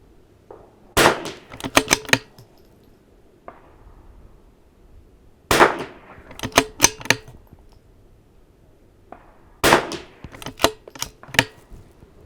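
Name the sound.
rifle gunshots at an NRL22 shooting match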